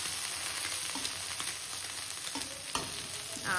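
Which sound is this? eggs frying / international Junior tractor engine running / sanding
eggs frying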